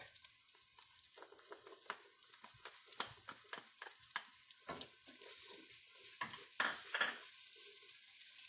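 Vegetables and garlic sauté in a pan for a dish of salt cod, Bacalhau à Gomes de Sá: a quiet, low sizzle broken by frequent clicks and scrapes of a utensil against the pan.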